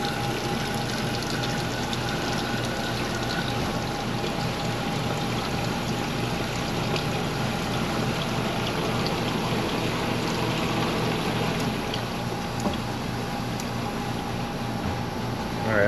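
Water pours steadily into an ice machine, a continuous rushing stream at moderate level with a faint mechanical hum underneath and no pauses.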